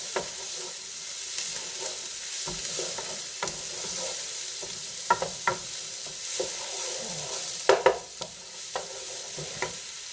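Onions fry and soften in a pan for a potato dish, a constant close sizzle with intermittent scraping and stirring knocks from a utensil.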